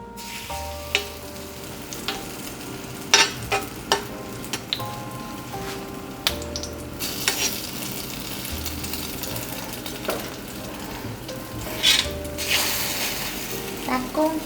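Cha-om (acacia leaf) egg batter fries in a pan over a medium gas flame, a steady close sizzle with scattered spatula clicks and scrapes and some brief louder bursts of spattering.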